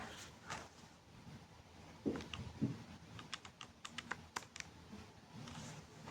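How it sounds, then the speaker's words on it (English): Fingers tap keys on a calculator to enter numbers, a quiet series of small clicks in irregular runs, with a few soft thumps early on. "I'll go ahead and I'll type this into my calculator."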